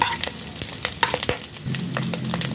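Garlic sautéing in rendered pork fat for a stir-fried pork mask and vegetable dish, a steady close sizzle and crackle with scraping stirring strokes throughout.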